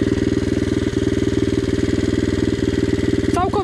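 Loncin 110/125 motorcycle engine running steadily up close, a rapid, even pulsing thump at idle with a brief rising whine or voice near the end.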